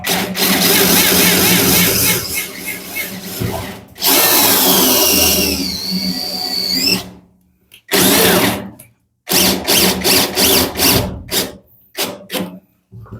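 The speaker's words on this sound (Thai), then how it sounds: "มือจับนี้ผมเจาะรูใหม่เลยดีกว่า" A power drill whirs loudly in long bursts, pitch rising as it bites into metal for a new handle hole, then a series of shorter stop-start runs separated by silence.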